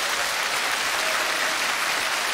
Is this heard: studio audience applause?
yes